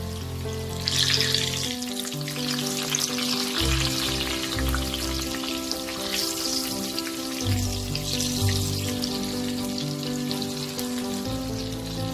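Steady crackling sizzle of raw jackfruit koftas frying in hot oil, loud and close, continuing without pause alongside faint background music.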